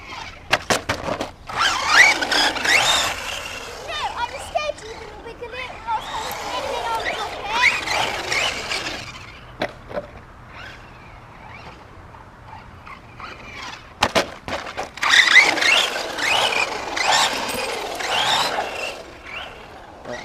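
An HPI Bullet Flux 1/8 scale RC truggy driving around a hill, with bursts of whining motor and rolling tyres that rise and fade over several passes, and people talking in between.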